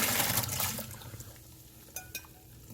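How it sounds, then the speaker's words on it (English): Cooked radish and its water are tipped into a colander in a home kitchen, giving a brief gushing splash that trails off into a few small drips and a light clink of metal. "Now we're going to take the radish in the water and put it into a colander to drain all the water."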